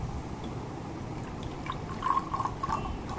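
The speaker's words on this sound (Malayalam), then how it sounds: "ഇതിൽ ഞാൻ കുറച്ച് പച്ചവെള്ളമാണ് ഒഴിക്കുന്നത്" Tap water poured into a glass bottle, a soft steady trickle with a few brighter gurgling splashes near the end, close and fairly quiet.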